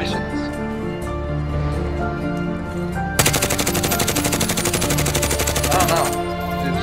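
Rapid automatic gunfire from the Warzone video game, a dense sustained burst of closely spaced shots that starts suddenly over game music and cuts off after about three seconds.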